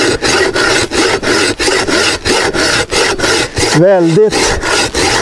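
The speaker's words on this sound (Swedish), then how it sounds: "man hjälps åt med två sågar" Two people work together with two hand saws cutting a piece of wood, giving steady rhythmic rasping strokes, close and loud, with a brief spoken word partway through.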